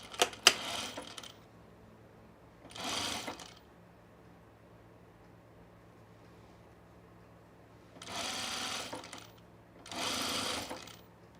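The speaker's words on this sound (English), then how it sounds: "But I'm gonna have to overlock it" An overlocker serger stitches a fabric seam for summer pants in four separate whirring bursts, a short one at the start and then three longer runs spaced by quiet pauses, heard close and alone.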